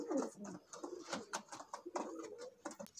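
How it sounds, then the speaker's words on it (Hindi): Kasuri kamagar pigeons cooing close by, repeated soft throaty coos in an uneven rhythm, fairly quiet with faint background noise. "जे कमगर कबूतर है"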